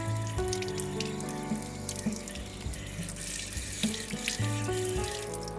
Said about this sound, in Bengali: তারপর একটু ধুয়ে নিচ্ছি।